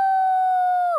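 A cartoon wolf character's voice imitates a wolf howl, one long sustained steady tone held for about a second before breaking off at the end, loud and alone with no other sound.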